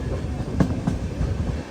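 A train runs slowly between Chennai and Trichy, heard from the rear coach as a steady low rumble with a couple of soft wheel knocks near the middle, continuous and moderately loud.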